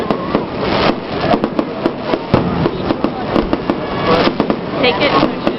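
Fourth of July fireworks in Atlantic Highlands, New Jersey, crack and boom in a rapid, irregular barrage of loud close bursts, with people talking underneath.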